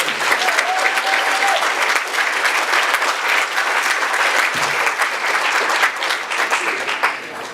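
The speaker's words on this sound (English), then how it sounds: "we should give them a great round of applause and appreciation." An audience at a Jewish schools reunion in Winnipeg applauds, a loud, dense round of clapping that holds steady for several seconds and then begins to thin.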